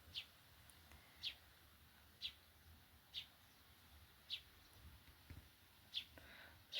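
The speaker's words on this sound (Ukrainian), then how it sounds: "Птахи, до речі, співають постійно." Birds in a spring garden in May give faint, sharp chirps at roughly one-second intervals, distant and thin against quiet outdoor background.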